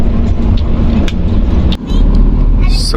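Haryanto HM 060 coach bus on an evening intercity trip into Demak, its steady low engine drone and road rumble heard from inside the cabin, with a brief dip before the hum returns.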